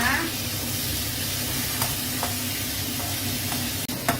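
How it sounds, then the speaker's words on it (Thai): Pork liver stir-fries over high heat in a wok, giving a continuous loud sizzle and hiss with occasional scraping stirs from a utensil throughout. "ตับหมูลงไปผัดไฟแรงๆนะคะ"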